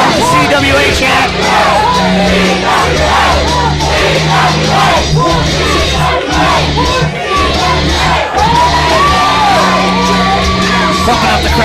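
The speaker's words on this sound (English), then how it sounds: "Starts off with the C.W.A. chant." A professional wrestling crowd chants "C.W.A." loudly in repeated rhythmic rounds, dense yells and whoops filling the arena with a steady pulsing beat for the whole stretch.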